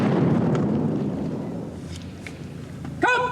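A pyrotechnic blast on an action-show film set booms loudly at the start and rolls off into a long fading rumble, followed by a short voice near the end.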